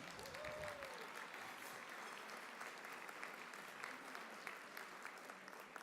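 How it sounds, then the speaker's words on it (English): Audience applause at an awards luncheon: a steady, sustained wash of clapping from a crowded room, with a brief voice at the start. "Please, big applause to Maribel Pérez."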